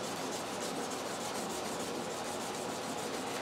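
Fine-grit sandpaper rubbing back and forth over guitar frets, a steady close raspy scrubbing with faint rhythmic strokes and no talk.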